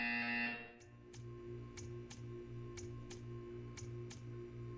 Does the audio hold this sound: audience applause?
no